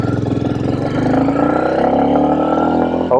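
A Royal Enfield Meteor 350 motorcycle with a cat-delete exhaust revs up close by, its single-cylinder thump climbing steadily in pitch through one long, loud pull before the throttle drops at the end.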